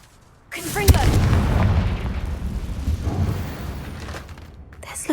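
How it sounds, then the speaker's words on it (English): A Confringo fire spell bursts in Hogwarts Legacy, a sudden loud explosive boom followed by a long rumbling, crackling decay, with a brief voice at the start. "Confringo!"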